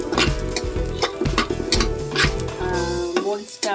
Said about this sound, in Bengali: সামান্য সরিষার তেল দিয়ে দুটা পেঁয়াজ, 3-4টা রসুনের কোয়া আর শুকনো মরিচ হালকা ভেজে নেব।